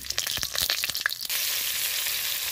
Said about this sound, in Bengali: পরিমাণ মতো লবণ আর হলুদ দিয়ে আমি আলুগুলো ভেজে নেব